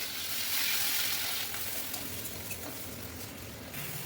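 Onion, chili and tomato sizzling in a hot pan with cumin, a steady close frying hiss that swells and eases slightly, with faint clinks and no voices.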